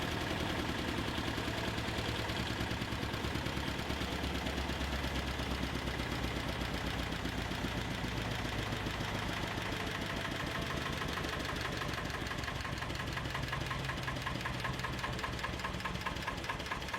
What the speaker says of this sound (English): The 6S37 Allen Diesel is a robust six-cylinder marine engine built by Allen Diesel